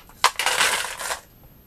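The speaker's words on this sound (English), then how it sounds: "I am going to take some stones. These are glass beads." Glass beads pour into the bottom of an Elho herb plant pot, a brief rattling, clattering rush of small hard pieces lasting about a second, close and fairly loud, with no talk.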